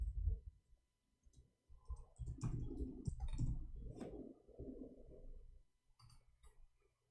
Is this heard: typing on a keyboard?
yes